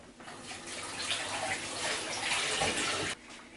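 Steady running tap water rinses a de-seeded vegetable under the stream for a few seconds, a continuous close splashing hiss that stops abruptly near the end.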